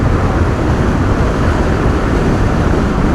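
Loud, steady rushing wind roar from a 72V electric scooter ridden at full throttle at high speed, dense and unbroken throughout without any talking.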